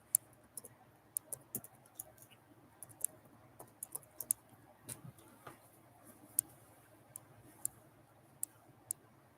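Soft, quick keyboard typing in a quiet room: scattered bursts of faint clicks and taps, irregular in rhythm, with a low background hum and no voices.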